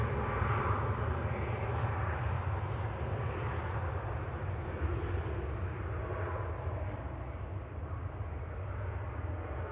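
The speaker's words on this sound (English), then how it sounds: "EIIGF is a 737 MAX 8-200 that's about 15 months old, heading over to Faro on the south coast of Portugal" A Ryanair Boeing 737 MAX 8-200 takes off from Manchester for Faro, a continuous broad engine roar at moderate distance that stays even throughout, with no talking.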